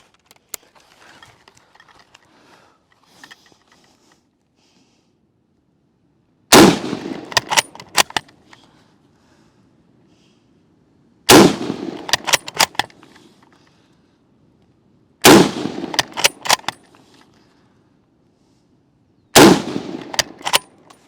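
WWII-era rifle fired in rapid bursts during a timed qualification drill, four loud clusters of sharp cracks spaced several seconds apart, with quieter handling noise between them.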